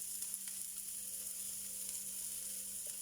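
Onion and green chilli hit hot oil in a single pan for a carrot thoran, producing a steady, fairly faint sizzle with a bright hiss that continues evenly throughout with no voices.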